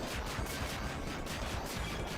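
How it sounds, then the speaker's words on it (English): An explosion spell attack in a Castlevania video game, a dense, sustained roar of blasting noise filling the whole stretch at an even, loud level. "He used explosion."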